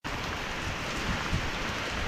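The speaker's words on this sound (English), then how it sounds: "I'm going to get out of this little light rain because it's not doing nothing but getting me wet." Light rain falls steadily during Hurricane Ian in Orlando, a constant close hiss of drops hitting surfaces with no pauses and no voices.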